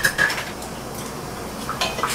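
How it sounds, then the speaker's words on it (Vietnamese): Chopsticks clink against a metal pot while blanched mustard greens are lifted from the hot water, with a few sharp taps near the start and again at the end over a quiet kitchen background. "Lấy đũa vớt ra."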